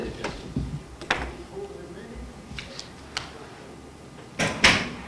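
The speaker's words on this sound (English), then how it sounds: "Want the door closed?" A door in a county budget meeting room is pushed shut, with a few soft knocks and bumps before a sharper closing thud near the end, heard against faint room murmur.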